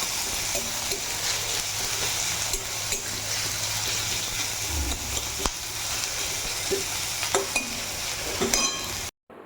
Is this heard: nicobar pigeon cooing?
no